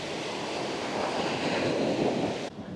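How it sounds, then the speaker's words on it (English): Choppy ocean waves at Clearwater Beach, Florida, wash in as a steady, loud roar of surf mixed with wind buffeting the microphone, then drop off abruptly near the end. "As we can see, the waves are a little choppy."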